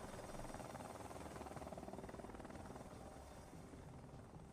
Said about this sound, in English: Chinook's home. Apache's heading out.